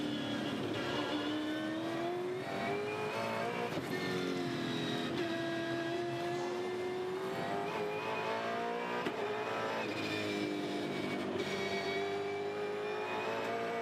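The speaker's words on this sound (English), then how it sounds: "Just listen how subtle he's being on every single action that he makes on the gear shift" A V8 Supercar race car engine at the Australian Grand Prix howls continuously, pitch rising and dropping as gears shift through corners, loud and steady throughout with no one talking.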